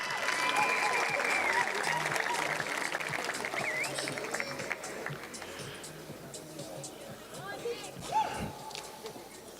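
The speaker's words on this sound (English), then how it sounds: "One more round of applause for these boys and for the fans on that side." Audience applause at a high school rugby capping ceremony, sustained and fairly loud throughout, fading slightly toward the end with some voices mixed in.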